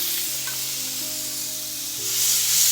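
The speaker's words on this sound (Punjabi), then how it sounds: "ਫਿਰ ਇਹਦੇ ਵਿੱਚ ਇਹ ਕੁੱਟਿਆ ਹੋਇਆ ਲਸਣ ਅਦਰਕ ਪਿਆਜ਼ ਤੇ ਹਰੀ ਮਿਰਚ ਪਾ ਦਵਾਂਗੇ" Crushed garlic, ginger, onion and green chili fry in hot oil with cumin, a loud steady sizzle up close with stirring, rising slightly toward the end, no talking.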